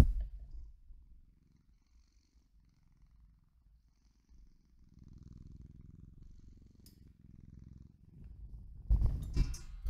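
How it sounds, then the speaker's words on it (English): A cat purrs softly and steadily up close, a low rumbling drone that swells in the middle and ends with a brief louder rustle. "Let me turn off the music so I can hear if he's purring."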